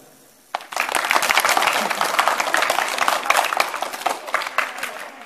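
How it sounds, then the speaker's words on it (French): An audience bursts into sustained, dense applause after a performance of unusual musical instruments, loud and close, many hands clapping steadily for several seconds. "Messieurs, dames, je vous applaudis."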